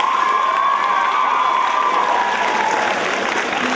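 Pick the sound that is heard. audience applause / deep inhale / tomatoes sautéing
audience applause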